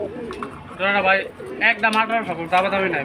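Pigeons at a Bangladeshi pigeon farm give repeated throaty, warbling coos in short bursts, close and loud, with people talking nearby.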